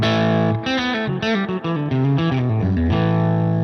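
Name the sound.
distorted electric guitar playing approach tones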